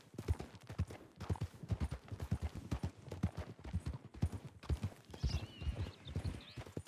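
Horse hooves clip-clopping in Red Dead Redemption 2 roleplay, a steady rhythmic trot close by with a brief whinny-like squeal near the end.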